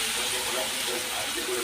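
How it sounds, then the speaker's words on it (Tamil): Milk poured steadily over roasted bread pieces in a dish for a sweet dessert, a continuous soft liquid gush and splash heard close up with no talk. "இப்போ வந்து நான் பாலை வந்து ஃபுல்லாக ஊற்றியாச்சு."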